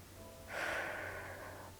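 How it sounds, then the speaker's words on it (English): A soft, close breath is drawn and released once, a faint airy exhale in a quiet room during a hands-only gua sha facial massage. "Breathing."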